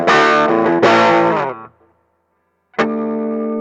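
Electric guitar chords through a distortion pedal and reverb ring out loud with a reverb tail, fade to near silence, then one more chord strikes and sustains.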